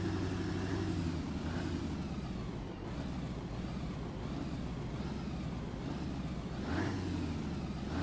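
Engine of a URAL Next truck in Euro Truck Simulator 2, a deep throbbing drone that rises and falls as it revs quickly, steady and close with no voices over it.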